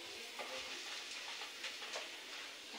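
Papad fries in hot oil with a faint, steady sizzle, broken by a few soft crackles and pops.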